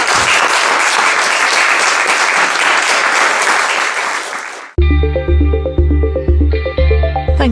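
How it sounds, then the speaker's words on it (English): Loud, dense applause from a crowd at a Scottish CND hustings, sustained for several seconds before cutting off abruptly into a musical outro with steady rhythmic beats. "So let's give them a big round of applause"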